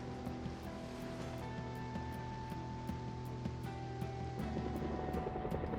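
A helicopter in the video game Project Zomboid drones overhead, a steady rotor thrum with faint regular chopping pulses over a constant ambient wash, with no talk.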